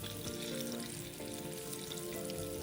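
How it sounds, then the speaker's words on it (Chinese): Cornstarch-coated tofu deep-frying in hot oil, a continuous bubbling sizzle with crackling pops, close and steady with no talking. "一裹上粉，立马下锅油炸"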